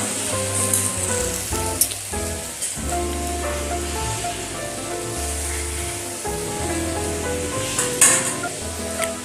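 Bottle gourd stalk charchori sizzles in a pan while being stirred, a steady loud frying hiss broken by scraping and clinks of the spatula against the pan.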